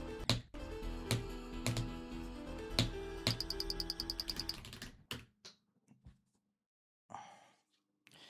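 Rapid clicking while playing a Geometry Dash level, heard as a fast run of sharp clicks set against game music, which then falls into sparse scattered noises and silence.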